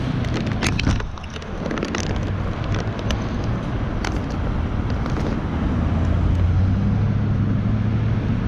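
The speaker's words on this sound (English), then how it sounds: "cars really come down this road fast" Steady roar of cars speeding downhill on a road, heavy low rumble with wind buffeting the microphone throughout, no talking.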